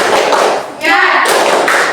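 Schoolchildren in a fifth-grade class perform a rhythmic clapping cheer, loud and close, with bursts of claps and thumps and group voices chanting along.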